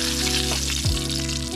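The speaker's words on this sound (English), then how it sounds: "We're gonna fry these up, fry the vegetables first, fry up the fish next" Fish and vegetables frying in a pan at a primitive kayak campsite, a steady close sizzle running throughout with a brief stirring shift partway through.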